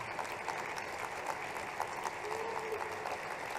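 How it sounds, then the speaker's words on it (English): A seated conference audience applauds the team at a closing session, giving a steady, faint, distant patter of clapping that lasts the whole stretch. "we'll give them a round of applause"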